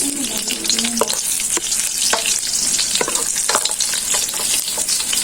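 Garlic and onion sauté in hot oil while shrimp and water spinach are being cooked, giving a steady close sizzle with scattered sharp crackles and pops throughout, no talk.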